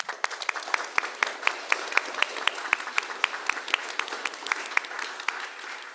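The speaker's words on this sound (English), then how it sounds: "make them stand up so we can give them a round of applause" An audience at a Board of Education meeting gives a sustained round of applause for teachers who run school clubs, steady even clapping from many hands filling the room, with a little talk underneath.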